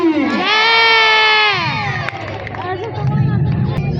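A noisy festival crowd at a Sita swayamvar tableau: loud shouting and cheering voices, with one high sustained shout early, then lively babble of many people continuing throughout.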